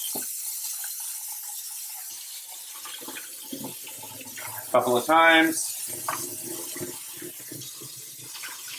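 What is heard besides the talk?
rinsing food with running tap water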